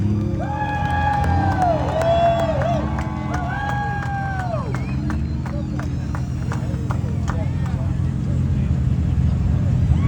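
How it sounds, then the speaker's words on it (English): An outdoor crowd at the Sturgis motorcycle rally cheers and whoops in a sustained roar for about ten seconds, with rising and falling shouts above a dense, steady crowd noise. "Yo, big round of applause."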